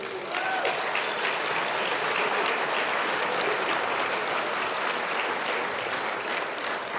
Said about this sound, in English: Round of applause for the leader.